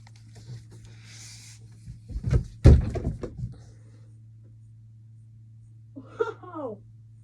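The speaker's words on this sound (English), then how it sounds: "I banged it on the fucking door." A perfume bottle bangs against a door with one sharp, loud knock, followed by a few smaller rattling knocks, then quiet room hum and a short vocal exclamation afterward.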